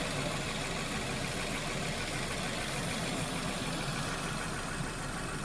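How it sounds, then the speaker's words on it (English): A car AC compressor runs during a refrigerant recharge, a steady engine-bay drone with a low rumbling hum that stays constant and fairly quiet. "The compressor just kicked on."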